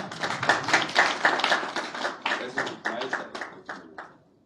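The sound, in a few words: audience clapping at concert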